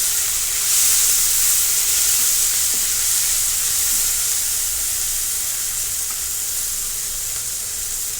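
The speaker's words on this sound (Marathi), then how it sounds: "आता थोडीशी कोथिंबीर देखील आपण तेलामध्ये टाकून घेणार आहोत ती देखील व्यवस्थित परतून घेणार आहोत" Coriander leaves sauté in hot oil, giving a bright, constant sizzle and steamy hiss up close, slowly easing slightly in loudness with no talk.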